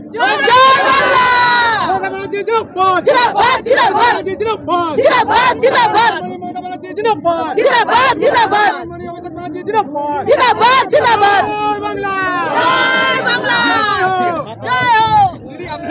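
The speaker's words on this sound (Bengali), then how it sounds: "আচ্ছা একটা জোরে করে স্লোগান হবে নাকি" A political crowd at a victory celebration loudly chanting a slogan in repeated bursts, many voices shouting together in rhythm, close and dense with brief pauses between calls.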